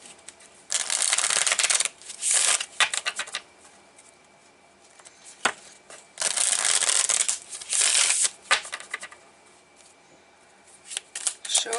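Tarot cards shuffled by hand in two long bursts of loud, crisp riffling and shuffling, with shorter taps and shuffles between them, close up and with no talking.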